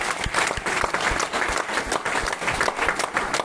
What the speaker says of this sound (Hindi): एक बार जबरदस्त ताली के साथ वेलकम।